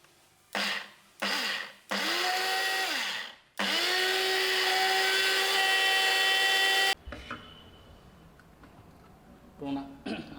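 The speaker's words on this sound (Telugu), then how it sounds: "ఇప్పుడు ఒకసారి మనం మిక్సీ చేసుకుంటాం" Kitchen mixer grinder running in short pulses, then one long continuous whir as it blends onion and tomato into a smooth gravy paste for capsicum curry; loud motor whine that stops abruptly, followed by quieter handling noises.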